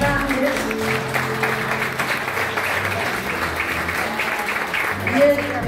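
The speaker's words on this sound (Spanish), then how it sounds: "Y un fuerte aplauso para Maximiliano Fernández." Applause from a concert audience for a folk and tango dancer at a municipal harp orchestra performance, steady clapping that fills the room, with a voice speaking over it.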